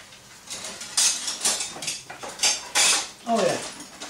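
Metal utensils and cookware clatter in a kitchen drawer while a spatula is sought, a string of loud close jangles and knocks in uneven bursts.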